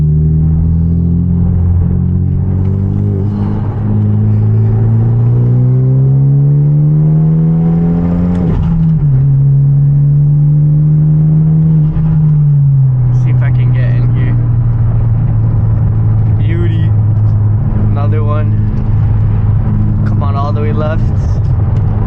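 A Hyundai Genesis Coupe with a manual gearbox and aftermarket exhaust cruises a highway at night. Its engine drone climbs steadily in pitch, breaks at a gear change, then settles into a loud, continuous rumble close by.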